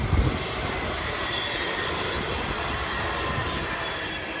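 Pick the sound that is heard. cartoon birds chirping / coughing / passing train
passing train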